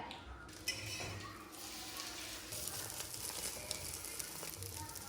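Eggs frying in a pan give a steady, faint sizzle with a few light clinks of cookware, heard quietly throughout.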